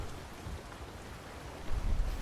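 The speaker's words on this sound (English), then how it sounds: "A little bit of rain." Rain falling during a storm at sea in the pirate video game Sea of Thieves, a steady low wash of rain and rumbling water that swells louder near the end, with no voices.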